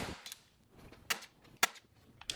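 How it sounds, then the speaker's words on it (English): A manual staple gun firing T50 staples through fabric into a DIY acoustic panel frame: a few sharp, separate snaps spaced irregularly, close by, with quiet handling noise between them. "I'm just using T50 staples in a staple gun."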